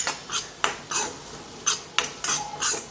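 Spoon scraping and clinking against a cooking pan while spices are mixed in, about eight quick separate strokes with faint sizzle underneath, close and moderately loud.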